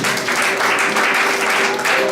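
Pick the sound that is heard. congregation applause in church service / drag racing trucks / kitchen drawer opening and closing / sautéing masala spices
congregation applause in church service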